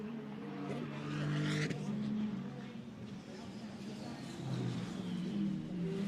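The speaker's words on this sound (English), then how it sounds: "So the pole position car going through shot, Philippe Pret." A GT2 race car at Misano circuit passes on track during qualifying, its engine note rising and sweeping by, then fading as another car's whine follows behind, with commentary running over it.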